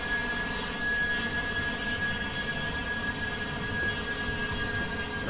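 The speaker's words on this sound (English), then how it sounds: "I can hear another plane in the background somewhere." Jet airliner flying overhead near Gatwick Airport in the Train Simulator 2017 game, a steady broadband engine roar that holds loud and unbroken for the whole stretch, with no talk over it.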